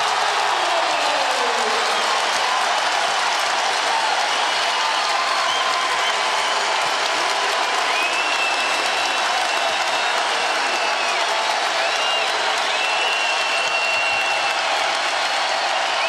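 A basketball arena crowd at a Kansas State versus Iowa State college game cheers and applauds in a loud, sustained wash of noise, with a broadcast commentator's voice faintly audible over it.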